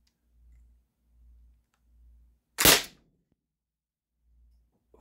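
A single sharp Umarex HDR-68 air gun shot fired indoors into a Kevlar-backed trap, with a crisp loud crack and a short decay, set against an otherwise quiet background with faint low thumps.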